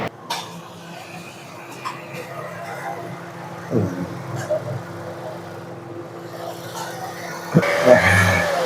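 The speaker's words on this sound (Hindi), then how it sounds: "बस ठीक है, रेस भी बढ़िया ले रही है।" A car engine, recently repaired for misfiring and jerking with fresh spark plugs, idles smoothly and then revs up, a steady close mechanical hum that swells briefly near the end.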